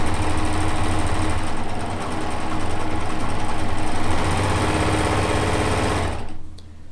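A sewing machine fitted with a circular sewing attachment stitches appliques, running as a loud, steady, close mechanical whir with a rapid needle rhythm for about six seconds before it stops.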